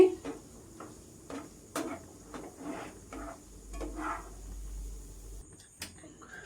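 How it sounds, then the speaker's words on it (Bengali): Semolina pieces fry in a pan over medium-to-low heat, a faint soft sizzle running beneath quiet scrapes, taps and clinks of a utensil against the pan. "এইভাবে সব কটা ভেজে নিব"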